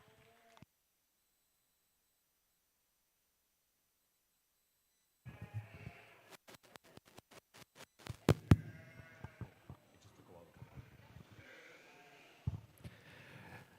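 At a sheep show, Border Cheviot sheep bleat several times in quick succession, after a long quiet stretch, alongside knocks and shuffling in the ring.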